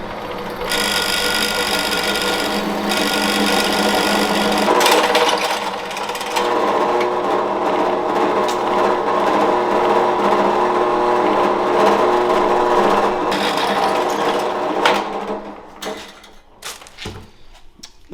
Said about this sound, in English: Drilling a hole in her.